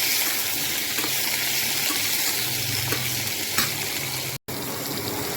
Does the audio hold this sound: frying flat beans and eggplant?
yes